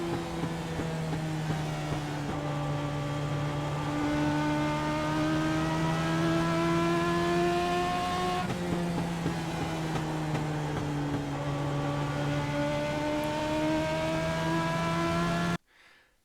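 A race car laps Langley Speedway on a new race setup, its engine a steady, loud onboard drone that rises and falls in pitch through the corners, with no talk, before cutting off abruptly at the end.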